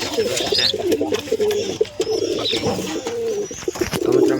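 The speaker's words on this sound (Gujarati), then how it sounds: "બધા કબૂતર આપણા પૂરાઈ જશે" Pigeons coo repeatedly at close range, soft throaty calls overlapping one another, with some fluttering and faint chirps around them.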